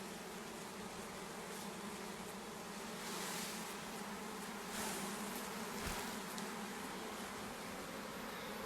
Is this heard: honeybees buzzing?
yes